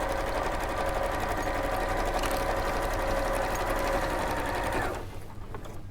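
A sewing machine runs continuously as it stitches fabric layers, a steady close, loud mechanical whirr with a rapid needle rhythm that cuts off near the end, leaving quieter room noise.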